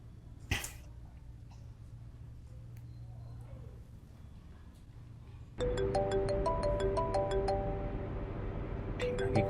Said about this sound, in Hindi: टीना की कॉल